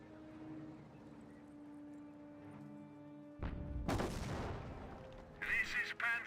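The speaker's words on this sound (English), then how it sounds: "Taking effective enemy fire." Gunfire and explosions in the World War II strategy game Company of Heroes: a quiet stretch of low hum, then a sudden heavy blast and rumbling fire, followed by a sharp burst of shots near the end.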